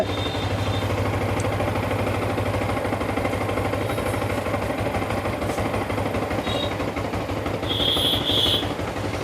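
A Yamaha R15 V4 motorcycle engine idles steadily nearby, a continuous low mechanical hum with a faint rapid pulse, unbroken and without voices.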